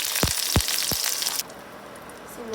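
Mustard seeds and onion are tempered in hot oil for a cassava and jackfruit sothi, a loud close sizzle with a few sharp seed pops that drops to a quieter hiss.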